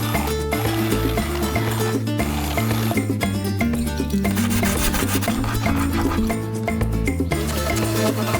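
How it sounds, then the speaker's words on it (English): Dull router bits are being sanded up close in a van kitchen build, producing a steady, loud abrasive rubbing and rasping that runs continuously with a rough back-and-forth texture and no voices. "we gotta sand the router bits because they are super dull"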